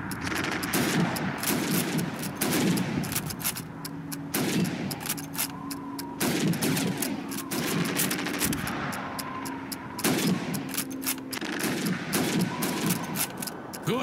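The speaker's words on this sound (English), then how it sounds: "You have 15 seconds to shoot the helmets." Rifle fire in a World War II era video game training exercise, with shots aimed at helmets: repeated sharp gunshots in bursts over about fourteen seconds, mixed with game background noise.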